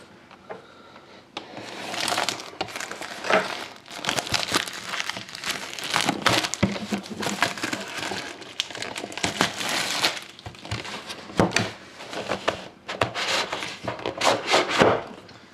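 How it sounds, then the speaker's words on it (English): Plastic wrap is cut and pulled off a 2011-12 Panini Dominion trading card box, producing loud, close, irregular crinkling and rustling bursts that continue throughout without speech. "I'm just going to cut the plastic first"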